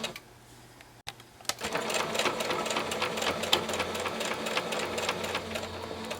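A sewing machine stitches a quarter-inch seam on a pillowcase dress, backstitching to lock it, starting after a click with a steady close mechanical whir and rapid needle clatter that runs to the end, with no talk.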